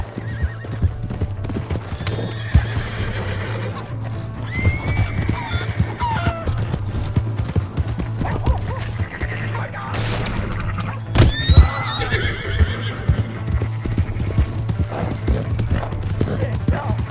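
A horse in a Red Dead Redemption 2 game clip-clops at a gallop while whinnying and neighing several times, hoofbeats continuous and close, with shouted voices mixed in.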